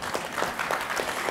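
A panel discussion audience claps in a steady, even patter filling the room, moderately loud with no voices over it.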